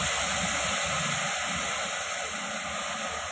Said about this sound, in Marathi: तर तेल तडतडलं आहे